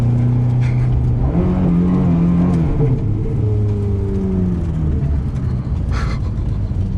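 A 2007 Ferrari F430 engine accelerates while driving, its loud harmonic drone rising in pitch, dipping at a shift, then climbing again, close and continuous for several seconds.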